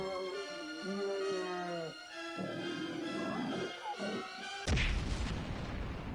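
An explosion goes off in the video game Alan Wake 2: a tonal, growling stretch gives way to a sudden, loud, broad blast near the end that rumbles away.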